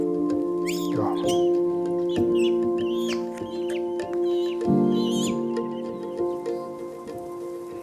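A rescued kestrel chick, just warmed up after being found cold and barely moving, gives repeated thin, squeaky begging calls in short bursts over a steady low hum, with someone speaking briefly.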